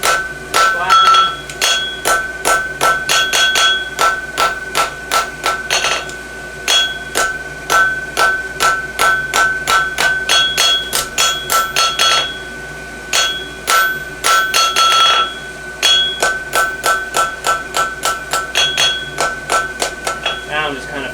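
A hammer rings on hot steel at an anvil while a farrier forges hunter heels on a 12-inch piece of concave horseshoe stock, striking in fast, steady bursts of bright metallic blows with short pauses between runs.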